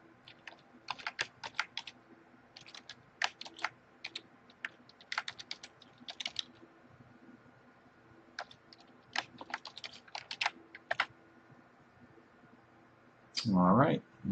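Typing on a computer keyboard, bursts of quick light key clicks in irregular clusters, fairly close and quiet, with a brief louder rustle at the end.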